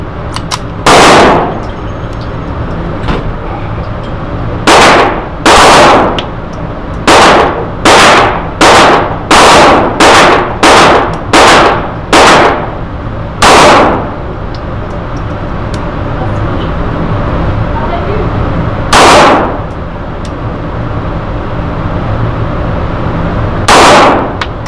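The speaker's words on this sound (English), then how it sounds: "that was the first mag out of the Sig P230 at 15 yards" A Sig P230 .380 pistol fires a full magazine at an outdoor range target 15 yards away: about sixteen sharp, loud shots, some in quick runs and others spaced out, over steady background noise.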